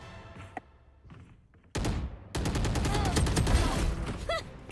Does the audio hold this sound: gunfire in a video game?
yes